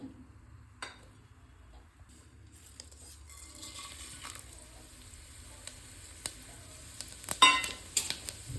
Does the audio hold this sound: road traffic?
no